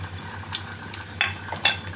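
Grated garlic frying in hot oil over a lowered flame after dried red chillies, a soft steady sizzle with a couple of sharper crackles as it is stirred.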